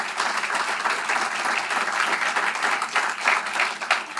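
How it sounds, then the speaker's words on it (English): An audience at a live event in St. Louis applauds, a dense steady wash of clapping hands that stays loud and even for the full four seconds with no speech over it. "So please give them a round of applause."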